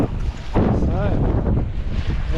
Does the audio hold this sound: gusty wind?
yes